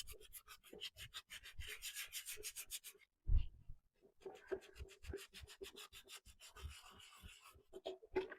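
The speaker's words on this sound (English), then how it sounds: "So I am going to sand a little bit, see get any extreme texture" Hand sanding the green-painted surface of a junk furniture piece, a close, rhythmic run of scratchy rubbing strokes with a brief pause partway through, no talking.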